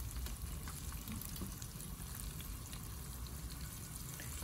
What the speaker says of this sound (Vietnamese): Này chỉ chiên sơ thôi.